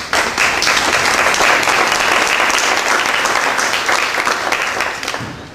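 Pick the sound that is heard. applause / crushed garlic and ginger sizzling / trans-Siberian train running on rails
applause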